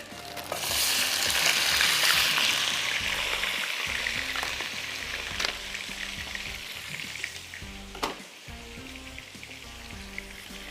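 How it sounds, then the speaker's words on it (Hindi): Pieces of boti meat fry in a pan over high heat, giving a loud, continuous sizzle and crackle with occasional stirring clatter, heard alone without any talking. "इसको हम बोटी को पहले फ्राई करेंगे"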